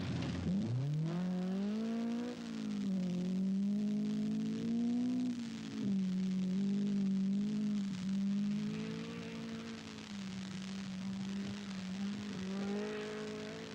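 A 1979 rally car, Datsun 120Y, on a special stage at Majura Park: one engine revs hard and holds a sustained, wavering drone through gear changes, close and loud, without talk.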